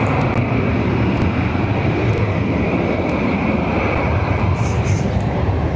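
Airliner taking off at Barcelona airport, a steady loud broadband engine roar with wind rumble filling the whole stretch, close and continuous.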